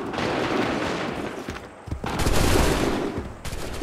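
A musket volley in the video game Assassin's Creed 3, a dense crackling burst of many shots at once with rumbling battle noise before and after.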